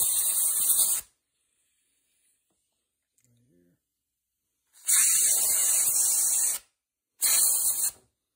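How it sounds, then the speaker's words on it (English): Compressed air blasts through a plastic Briggs and Stratton lawnmower carburetor in three loud, close hissing bursts: one at the start, a longer one midway and a short one near the end, with near silence between them. "if you have a compressor, use a little compressed air."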